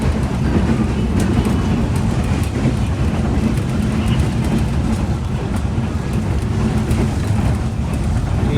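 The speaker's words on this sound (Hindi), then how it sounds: "शोरकोट रेलवे स्टेशन में गुजर रही है ट्रेन हमारे इस वक्त काफ़ी अच्छी स्पीड में।" Steady, loud rumbling train noise with faint rhythmic clatter, heard from on board the Shalimar Express as it passes through Shorkot railway station at speed in Pakistan.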